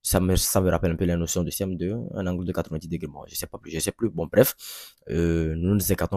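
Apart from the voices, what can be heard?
None of the usual background noises is heard.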